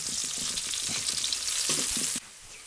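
Garlic and onion sizzle and fry in a pan for pork giniling, close and steady with a stirring scrape, cutting off abruptly near the end.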